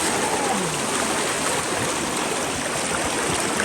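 Water rushes steadily through a gold-prospecting sluice box, a continuous close, full babbling flow with no pauses.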